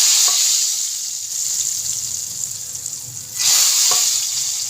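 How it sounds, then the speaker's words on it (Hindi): Hot tempering poured into masoor dal cooked with arbi, giving a sharp burst of loud sizzling that fades and then flares up again near the end, with no talk. "ये परफेक्ट तड़का जो है रेडी है। अब हम इसको अपनी दाल में डालते हैं।"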